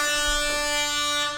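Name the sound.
air horn sound effect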